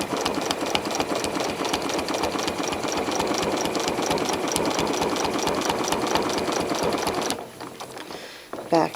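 A sewing machine runs continuously, stitching crosshatch quilting lines beside appliqué with a fast, even mechanical chatter close by, then stops abruptly near the end, leaving a few soft handling noises.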